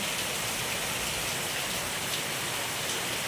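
Heavy, steady rain pours down during a long downpour, a dense unbroken hiss of drops drumming on surfaces close by, with no voices.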